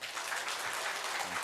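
Brief applause from a church congregation during a Sunday afternoon service, a soft, distant, even patter of clapping lasting about a second and a half.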